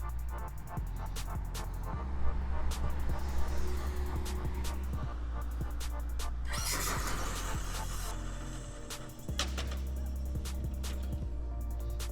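A Traxxas Slash RC car in a nearly neutral, no-prep setup accelerates down a road, its motor whining and squealing up to speed with a brief rushing surge over steady background noise.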